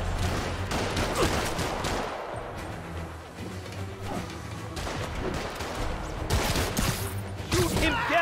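Rapid gunfire in Marvel's Spider-Man, repeated bursts and shots under a dense game mix with music, steady and fairly loud throughout the scene.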